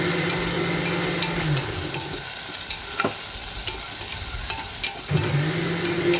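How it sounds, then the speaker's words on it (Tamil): Cut bitter gourd being sautéed in oil, with a continuous crackling sizzle and scattered spatula taps and scrapes, with a low rumble at the start and again near the end. "பாவக்காவை வந்து இந்த எண்ணெயிலேயே வந்து நல்லா வணக்கணும்."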